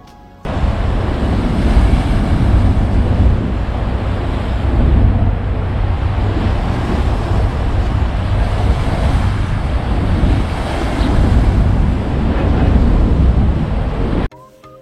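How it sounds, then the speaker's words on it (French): Steady surf and wind roar continuously at dawn in New York, a broad rushing wash; no distinct bird calls stand out over the constant noise. "je vous laisse découvrir New York avec le bruit des vagues et des oiseaux"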